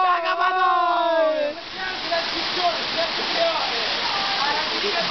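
Waterfall roughly 10 to 20 metres high, a loud steady rushing roar close by, with a voice speaking briefly over it at the start.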